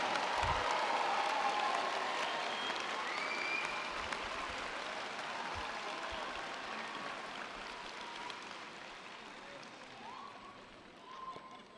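A commencement audience at PVCC applauds its graduates: dense, sustained clapping from a large crowd, loudest at the start and gradually tapering over about twelve seconds, with faint voices mixed in.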